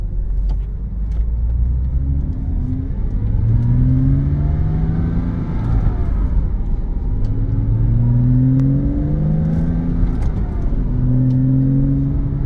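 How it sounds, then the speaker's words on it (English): A 2006 Porsche Cayman S with a manual gearbox accelerates on a test drive, its engine rising and falling through repeated gear changes under a constant loud cabin rumble. "Okay, we're going on a quick test drive."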